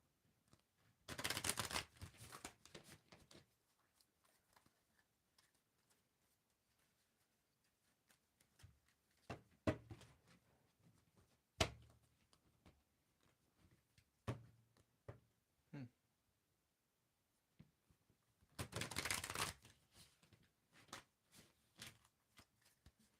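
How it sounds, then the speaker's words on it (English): A tarot deck is riffle shuffled, with crisp, fluttering bursts of cards at the start and near the end and quieter handling taps and thumps between them; no one speaks. "I'm going to riffle shuffle this thing 3 times"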